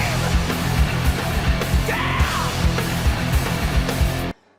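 A man lets out a short, strained yell over a steady rhythmic musical background, with the sound cutting off abruptly at the end.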